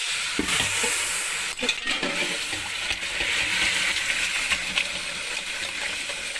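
Tomato paste mixture being whisked over heat, giving a steady close sizzling, frying hiss with faint stirring scrapes and a few clicks, no talking.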